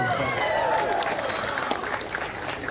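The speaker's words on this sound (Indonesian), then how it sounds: "Mantap, tepuk tangan kasih dia." Congregation applauding during a youth church sermon, steady dense clapping throughout with cheering or voices mixed in.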